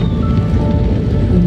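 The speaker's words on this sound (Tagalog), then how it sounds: "umuulan na" Rain coming down steadily in Angono, a dense, constant close patter and hiss of drops on surfaces with no pause and no voices.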